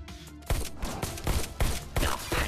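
Energy rifle in the video game Robo Recall firing a rapid run of sharp, punchy shots, about seven blasts in quick succession after a short quieter lead-in.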